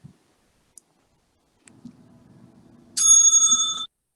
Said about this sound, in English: The timekeeper will ring the bell once.